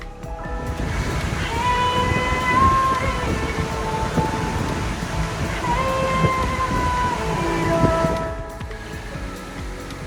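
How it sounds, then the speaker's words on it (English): Kjosfossen waterfall in Norway roars steadily and broadly throughout, a dense rushing wash of falling water with faint tonal sounds over it, easing off near the end. "What a spectacular waterfall it was."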